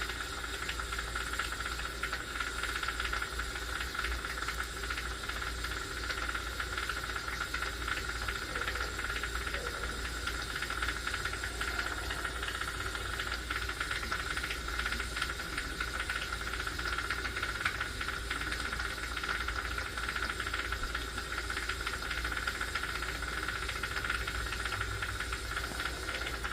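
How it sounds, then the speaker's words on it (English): A crackling, hissing Hoffman steam press runs steadily in the background, a continuous broadband hiss with faint crackle throughout, no one speaking. "the sound you hear back there, that crackling sound, that's my steamer."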